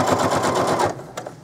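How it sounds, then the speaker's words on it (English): A sewing machine stitches a white cotton slip right beside a serged edge, a fast even close-up chatter for about a second before stopping with a small click. "I'm stitching right next to this serged edge"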